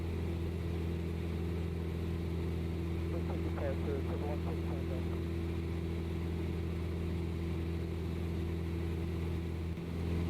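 Simulated Cessna 172 piston engine in flight in Microsoft Flight Simulator 2020, a steady droning hum with strong low tones that holds constant throughout, while a voice talks briefly over it.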